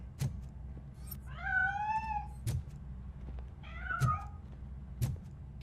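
In the video game Robocop: Rogue City, a cat gives two drawn-out meows, the first longer and the second shorter, over a low steady background hum with a few faint thumps and no talking.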